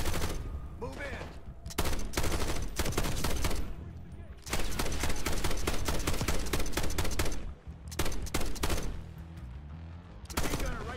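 Sustained machine gun fire and rattling bursts in the Call of Duty Black Ops 6 campaign, loud and dense in several long volleys with brief gaps, with some speech mixed in.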